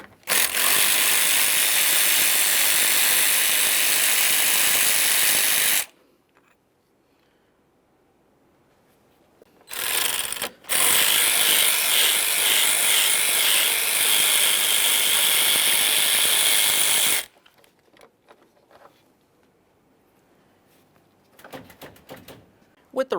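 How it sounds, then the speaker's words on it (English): Long bursts of a ratchet wrench spinning off 13mm radiator mounting bolts on a 2015-2020 Ford F-150 with a 3.5L V6, loud and close, two extended runs separated by quiet, with brief faint clicks afterward. "We'll dislodge each one of the mounting bolts,"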